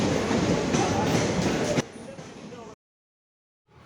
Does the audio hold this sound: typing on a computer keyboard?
no